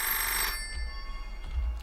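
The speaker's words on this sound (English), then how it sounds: "Where's the phone?" A telephone rings in a horror video game, a bright electronic ring in the first half second that gives way to low pulsing tones, close and fairly loud, with no voices over it.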